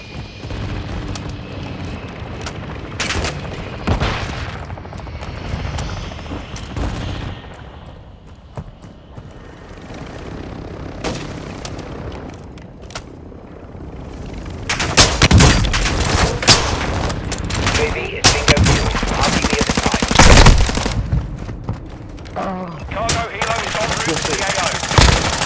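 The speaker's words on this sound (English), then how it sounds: "Hostile mortar strike incoming." Mortar strike explosions and gunfire from Call of Duty: Modern Warfare II, sparse booms and bursts at first, then a loud dense barrage of blasts and automatic fire in the second half, with a game voice announcing over it.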